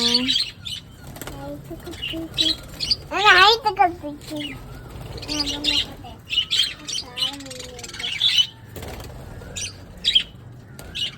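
Pet birds squawk and chirp up close, with bursts of wing flapping, while people talk softly nearby.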